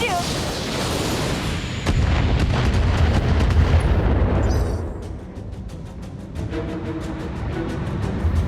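Long-range missile volleys in BattleTech launch in a dense run of rapid bursts and booms, loud and close, easing briefly before another rattling series of impacts follows.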